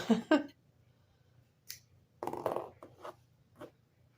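Scissors snip through crochet yarn a couple of times, two quick close clicks at the start, followed by softer scattered handling noises in a quiet room.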